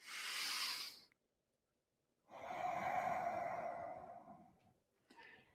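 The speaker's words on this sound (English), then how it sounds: "Just listen, literally listen to that deep breath filling your lungs and then leaving" Slow deep breathing, a long airy exhale, a pause of silence, then a longer breath drawn through, close to the microphone and clearly audible alone, ending with the start of another breath.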